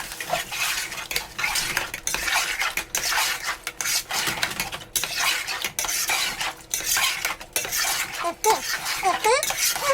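Goat biryani is stirred in a metal pot, a spoon scraping and clanking in rapid, uneven strokes over a faint sizzle, loud and close throughout.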